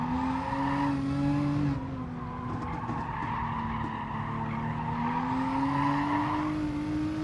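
A race car in Gran Turismo Sport braking hard and overtaking a Lancer, with tires squealing and skidding over a steady engine whine that dips and climbs again, loud and close.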